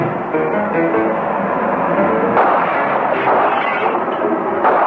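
Cartoon cannon fire rings out in a loud, dense barrage of booming shots that overlap with no pause, forming a continuous roar of blasts.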